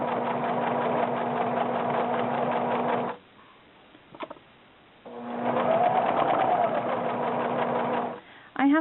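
A home sewing machine running a medium zigzag stitch through jacket fabric, a steady close-up whirring hum in two sustained runs separated by a quiet pause with a few faint clicks.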